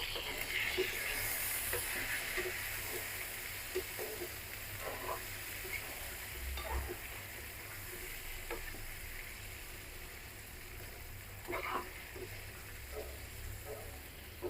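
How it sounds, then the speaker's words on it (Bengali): Potatoes and eggplant frying in oil with turmeric in a pan, a steady, moderately quiet sizzle and hiss that runs throughout, with occasional soft stirring scrapes and no talk. "এবার ভালো করে ভাজতে হবে আলু বেগুনগুলো"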